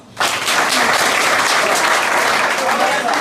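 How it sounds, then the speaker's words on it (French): A school class applauds together, a dense, loud burst of clapping that starts abruptly and holds steady for about three seconds. "Applaudissez pour vous."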